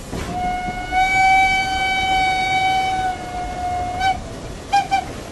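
A train horn sounds a long sustained blast over rumbling rail noise, followed by a couple of short toots, fairly close.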